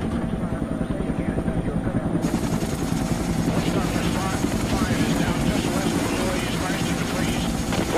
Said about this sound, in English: Over the radios, we can hear the choppers ahead of us.